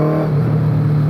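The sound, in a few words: MK Indy Classic car with Kawasaki ZZ-R1200 motorbike engine revving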